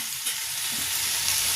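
Fenugreek leaves hit a hot pan for a Bhogi vegetable dish and set off a loud, steady sizzle that continues without a break, close and alone.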